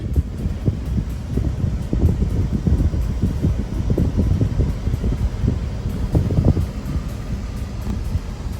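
A Xool electric fan for dogs runs inside a car with a steady whirring drone and a faint airy rush, continuous and close with no talk.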